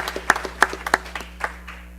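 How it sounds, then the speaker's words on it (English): An audience clapping in a hall during a live-streamed convention, sparse and uneven, a handful of distinct nearby claps scattered over a quiet background hum, fading out toward the end. "let's all clap for him"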